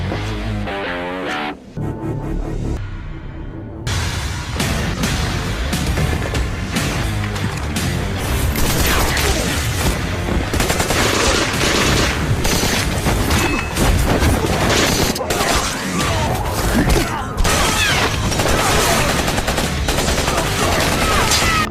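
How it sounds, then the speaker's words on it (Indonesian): Dense gunfire rattles through a fierce film shootout, with loud rapid bursts and booms packed over the whole stretch after a brief quieter opening. "menyerang secara membabi buta hingga terjadi baku tembak yang sengit"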